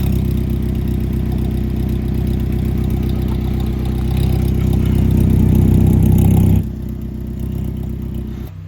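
AWD Honda engine idling through a 2.5-inch exhaust system, a steady low rumbling burble with light clatter, swelling slightly before dropping to a quieter idle near the end.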